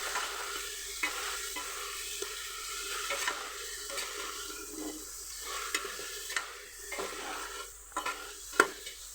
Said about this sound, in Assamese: মাংসখিনি ভালকৈ মিক্স কৰি লৈছোঁ।